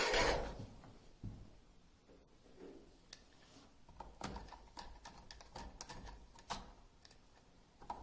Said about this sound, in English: the next step will be to remove these four screws right here.